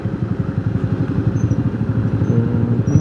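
A motorcycle engine rumbles loudly and close by, a rough, throbbing low putter that holds steady throughout.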